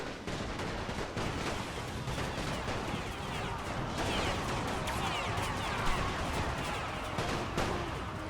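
Steady, thick gunfire from infantry units in a Great War strategy video game, a continuous crackling fusillade with no pauses, fairly distant.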